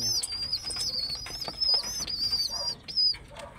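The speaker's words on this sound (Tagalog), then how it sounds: "Kalapati ko po." Pet pigeon nearby making soft, fluttering sounds and brief wing flaps against a persistent high whistling tone, with faint rustles and shuffles in between.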